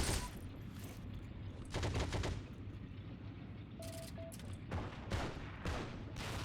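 Gunfire rattles through a World War II style battle in the video game Heroes and Generals, with repeated bursts of distant and nearby shots over a constant low rumble of combat ambience.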